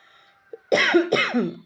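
Two harsh, close coughs follow in quick succession, each a throaty burst, after a brief faint click.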